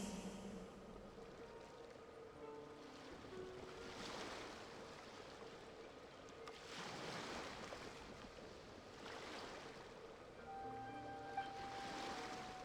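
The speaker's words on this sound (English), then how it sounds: "Go to where you can hear the sound of the waves." Ocean waves wash ashore in the Genshin Impact video game, with surges rising and falling every few seconds over a steady wash and light wind. No voices are heard.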